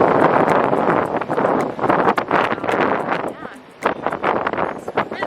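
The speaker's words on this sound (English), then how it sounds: "Yeah, it's really windy." Strong gusty wind blasting a microphone at a beach, loud buffeting rumbles that surge and dip in uneven bursts, with a brief lull midway.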